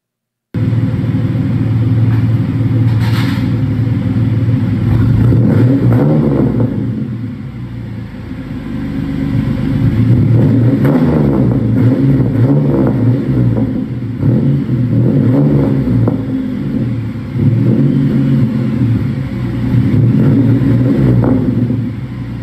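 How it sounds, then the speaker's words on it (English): A car's exhaust rumbles deep and loud throughout, swelling through several revving surges with brief dips between them, close to the microphone and with no voices. "He sent me an exhaust video"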